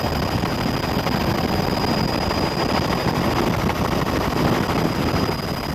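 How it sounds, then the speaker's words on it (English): A rescue helicopter hovering over an accident scene while hoisting an injured youth on a stretcher, its rotor and engine noise a steady, loud broadband roar throughout with no voices. "The crew on board the rescue helicopter lowered a stretcher to the scene"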